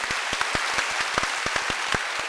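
Sparse, scattered hand claps from a small congregation at a church Sunday service, loose and irregular, close by without any voices.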